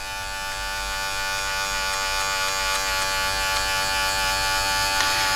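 Electric hair clippers run steadily with the lever nearly closed, scooping out a line while blending a low taper fade; a loud, continuous close-up buzz holds for the whole stretch with no talking.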